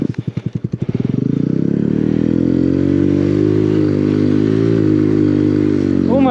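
A motorcycle rides off-road in a Texas snowstorm. The engine starts with rapid chugging pulses, then settles into a loud, sustained drone close by, with slight rises in pitch.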